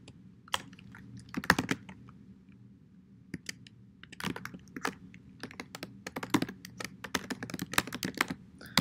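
Rapid, uneven clicking of a computer keyboard as C++ code for a selection sort is typed, bursts of keystrokes with short pauses, close and fairly quiet over a low hum.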